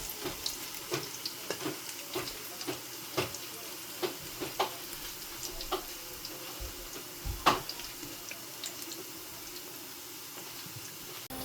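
Bhajiya fritters frying in hot oil, a steady crackling sizzle with scattered sharp pops and spits at close range, and no voices.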